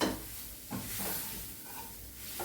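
Fenugreek leaves sautéing in a pan with salt and a little oil give off a soft, steady sizzle and hiss, with faint stirring scrapes now and then, close and continuous with no voices.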